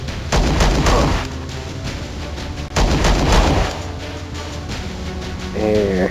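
Gunfire in turn-based combat in the space game Star Traders Frontiers, loud booming shots in a few heavy bursts with rumbling tails, a short chirping tone near the end.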